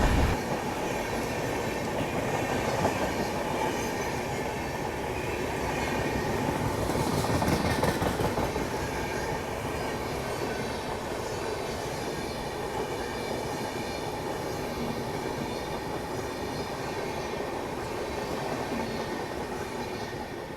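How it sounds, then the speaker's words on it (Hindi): The Purva Express rolls past on rails with a steady rumble and clickety-clack of wheels over joints, a brief swell midway, heard continuously at moderate loudness with no talk. "ये पूर्वा एक्सप्रेस है तो इसको यहाँ से क्यों निकाल रहे हैं?"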